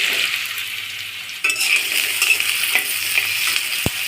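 Cut potato pieces hit hot oil tempered with dried chilli, white cumin and bay leaf, setting off a sharp, sustained sizzle with a few utensil clinks against the pan, close up and without talk.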